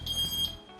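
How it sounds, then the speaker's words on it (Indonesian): Electronic alarm tone triggered by touching a laser trap at a science museum, a steady high-pitched beep lasting about half a second then cutting off. "Kalau kalian nyentuh lasernya, nanti ada alarm yang bunyi gitu."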